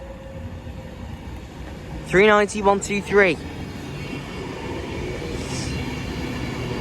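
An 11-coach Avanti West Coast Class 390 train for London Euston pulls into a station with a low steady rumble, then a loud two-tone horn sounds in short blasts mid-clip. A voice reads out the unit number.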